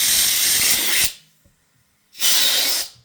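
An air compressor blowing air into a balloon through a balloon-tying tool, heard as two loud, close, steady hissing blasts, the first about a second long and the second briefly after a quiet pause.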